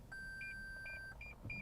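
Toyota Corolla 2020 parking sensors beeping while reversing into a space: a long steady tone followed by short repeated beeps, clear over a low engine rumble, no speech.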